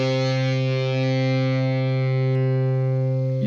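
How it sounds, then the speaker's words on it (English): One electric guitar note sustained through an amplifier with a distorted effect, holding steady and loud for the whole stretch with no decay and no talking. "an electric guitar is usually connected to an amplifier, and that means it can make the notes last longer"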